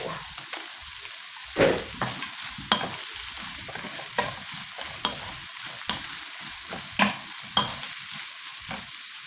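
Cabbage stir-fried in a pan for a home-cooked meal, giving a steady sizzle broken by repeated scraping and tossing strokes at an even rhythm, close and moderately loud, with no talking.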